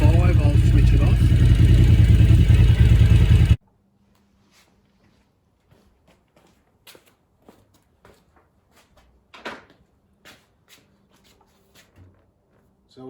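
A motorcycle engine idles steadily at about 1300 rpm while warming up, loud and continuous for a few seconds before cutting off, followed by quiet scattered clicks and light handling noises.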